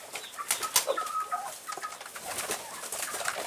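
Kept pigeons coo in soft repeated rolling calls, close and clear, alongside a few brief chirps and light rustling from the flock, with no talking.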